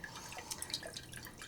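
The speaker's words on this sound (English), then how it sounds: "We're going to go ahead and start swishing this around and just kind of get that sugar dissolved" Warm water swished around inside a jar to dissolve sugar, giving a continuous soft sloshing and dripping wash with small splashy bursts, close and steady throughout.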